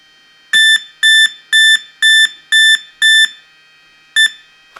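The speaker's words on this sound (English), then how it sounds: "you're gonna hold this down past the red beeps" Loud electronic beeps from a brushless RC car speed controller during calibration: six evenly spaced tones in a row, a pause, then one more beep, all close and sharp against silence.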